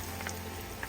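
Masala vada, a lentil fritter, frying in hot oil, giving a steady, dense sizzle with fine crackles throughout, close and continuous.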